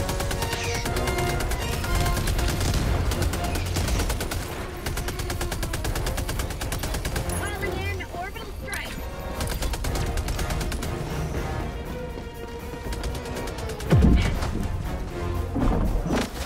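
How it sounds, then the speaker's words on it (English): Sustained automatic machine-gun fire from Helldivers 2, dense rapid bursts with explosions and impacts mixed in, loud and continuous throughout with a brief heavier blast near the end. "Love this machine gun."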